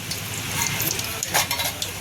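Cumin seeds and curry leaves fry in two spoons of oil inside a pressure cooker, giving a loud, dense, steady sizzle up close with faint crackles popping through it.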